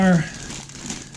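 Packaging crinkles loudly for a moment while a Garrett APEX metal detector is unboxed, followed by softer rustling under a nearby voice.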